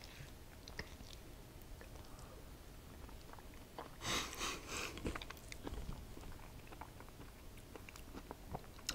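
Soft, close chewing of a bite of peach cobbler, with quiet mouth sounds and a faint sniff over low background hiss.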